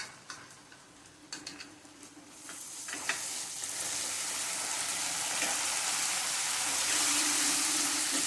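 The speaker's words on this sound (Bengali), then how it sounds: "যাতে কাঁচা ভাবটা চলে যায় সেই রকমভাবে পেঁয়াজটা আমি ভাজবো" A few light clicks and taps, then a hiss of onions frying in a pan that swells and holds steady, close by and moderately loud.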